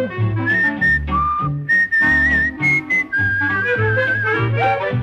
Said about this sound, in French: Chaque matin, je siffle en me rasant.